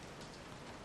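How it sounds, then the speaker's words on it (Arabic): Steady rain hisses in Resident Evil 7, a soft, even wash of falling water without breaks, faint and close. "شتا"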